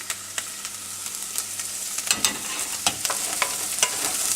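Onions fry in oil in a pan, a soft, steady sizzle broken by repeated scraping and clicking as a utensil stirs them, close by and without talk.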